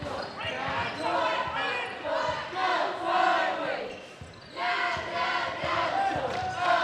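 A basketball thumps repeatedly on a gym floor during a high school game between East and Juneau-Douglas, the bounces sharp but partly buried under a loud, steady crowd roar with shouting voices throughout.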